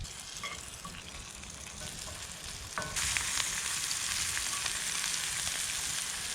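Wild oyster mushrooms frying in butter on a camp stove outdoors, a steady close sizzle and crackle that grows louder and denser partway through as the pan heats or the mushrooms are moved.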